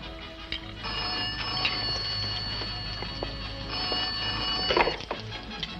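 A telephone rings in a colorized spy-drama scene, its bright metallic bell trilling steadily for several seconds at close range over faint room noise.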